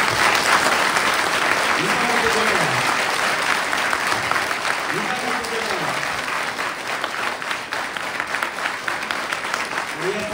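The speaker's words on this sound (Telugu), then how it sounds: "ఒకసారి గట్టిగా చప్పట్లు కొట్టాలి అందరూ గట్టిగా" Loud, dense applause from an audience at a religious discourse program in Marikal fills the whole stretch, steady and broad, with a voice speaking faintly beneath the clapping.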